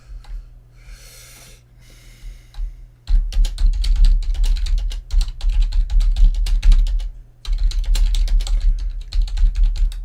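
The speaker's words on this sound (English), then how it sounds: "Boy, my typing is really bad here." Fast, uneven typing on a computer keyboard in a terminal, close and clattery, in two long bursts with a brief pause between, after a few seconds of quiet breathing.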